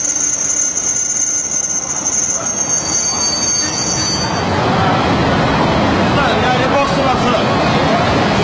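A passenger train to Suzhou rumbles steadily along the rails, its wheels letting out a high, sustained squeal over the first half before the sound gives way to a louder, broad clattering roar close by.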